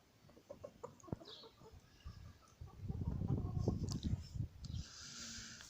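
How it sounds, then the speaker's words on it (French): A small flock of hens and a rooster clucking nearby, with scattered calls early on, then a denser burst of overlapping clucks and a few faint high chirps. "là devant vous les quelques poules qui nous restent et le coq qui nous reste"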